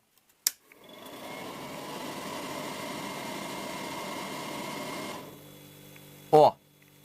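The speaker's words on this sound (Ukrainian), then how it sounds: "Чуєте, як торохтить компресор, да?" A refrigerator compressor powered through a 12-220V inverter starts with a click and runs with a steady rattling hum for several seconds, then cuts off, followed by a sharp knock.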